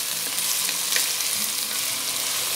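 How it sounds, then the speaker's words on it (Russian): Onion and pork fry together in a pan over slightly above medium heat, giving a dense, continuous crackling sizzle with faint stirring scrapes, close and steady throughout. "На обжарку мяса по 10 минут добавляю лук. И продолжаю обжаривать на мощности чуть выше среднего,"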